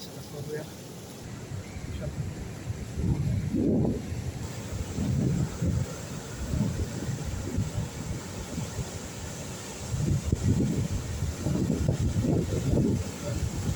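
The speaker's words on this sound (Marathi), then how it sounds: "हरिहरेश्वरचा समुद्र वादळी वारा सुटलाय" Strong monsoon wind buffets the microphone while rough surf at Harihareshwar rumbles and crashes nearby, with people speaking over the roar.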